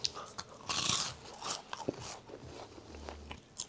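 Crisp crunching bites and chewing up close, a few sharp cracks followed by quieter munching, with no talking.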